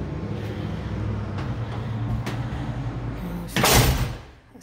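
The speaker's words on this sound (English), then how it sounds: "As you come into the church on Sunday morning, you enter through the west doors." Wooden west doors of a church opening on a Sunday morning, a steady low rumble of movement, then a loud, sharp bang or scrape near the end, close by with no voices.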